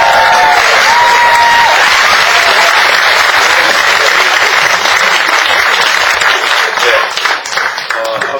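A large indoor audience at a book concert claps warmly and continuously, a dense loud wash of applause that holds steady and thins slightly toward the end.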